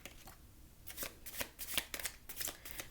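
A deck of tarot cards is shuffled up close, several quick riffling bursts of crisp paper flutter that come in rapid succession over a few seconds, with no talk.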